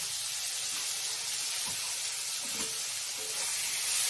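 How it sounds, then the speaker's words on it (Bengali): Potatoes frying with a paste of green chili, ginger, garlic and onion, a steady close hissing sizzle with a couple of soft stirring scrapes, no voices. "কাঁচা লঙ্কা আদা রসুন পেঁয়াজ সব একসাথে আমি বেটে নিয়েছি আলুতে দিয়ে ভালো করে কষিয়ে দেব"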